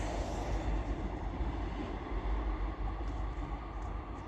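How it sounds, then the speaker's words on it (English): An LNER passenger service to London King's Cross pulls into York station on the East Coast Main Line. A faint, steady rumble of the train fills the whole clip at a distance, with no talk. "Now pulling in over there is a LNER service to London King's Cross."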